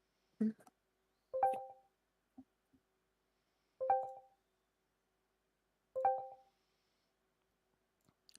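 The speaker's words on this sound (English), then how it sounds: "Why are my Discord notifications so loud?" Three identical Discord notification chimes ring out at regular intervals, each a short bright two-tone ping over near silence, with a faint click or two between them.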